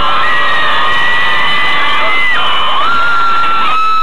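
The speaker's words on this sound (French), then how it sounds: "des filles hystériques criant à la limite de l'apoplexie" A dense crowd of hysterical Tokio Hotel fans, mostly girls, screams continuously at full volume, with piercing high shrieks rising and falling over a constant roar, loud and close.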